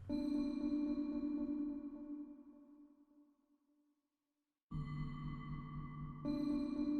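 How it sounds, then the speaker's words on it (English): Soft synth plucks ring out and sustain into a smooth pad-like tone, fading away to silence before a new chord swells back in. "I pulled up another sound, and this more like a pluck, but I treat it like a pad"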